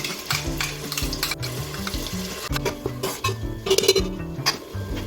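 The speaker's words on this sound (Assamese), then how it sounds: "এতিয়া আমি ইয়াতে পিচি থোৱা মছলাখিনি দি দিছো আৰু ভালদৰে লৰাই দিম।" Ground spice paste stirred in hot oil in a pressure cooker pan for mutton curry, a spoon scraping steadily with a light sizzle and occasional clinks of metal, close and continuous.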